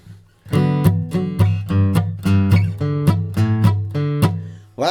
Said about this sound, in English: What I am mostly listening for there is that mandolin chop.